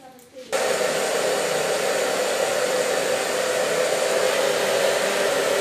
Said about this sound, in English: with this I'm going to dry the hair